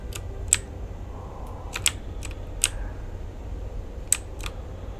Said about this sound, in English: my keyboard is definitely really loud